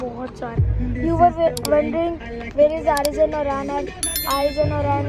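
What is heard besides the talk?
No everyday noise stands out behind the speech.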